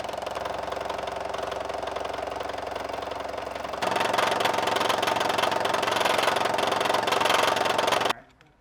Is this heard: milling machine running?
yes